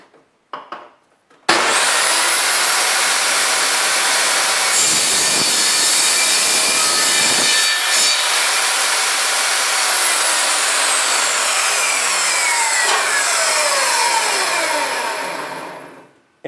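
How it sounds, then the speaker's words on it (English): A wooden wand blank being sawn in two at about the six-inch mark, a loud steady rasping cut that runs continuously for about fifteen seconds before tapering off, with no talking. "we're going to go ahead and cut this off at about the 6-inch mark"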